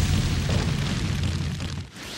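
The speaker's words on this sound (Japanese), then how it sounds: "大爆発だぜ。" Explosion from a jutsu in the Naruto Storm Revolution video game, a dense, roaring blast that holds loud for about two seconds and then drops away.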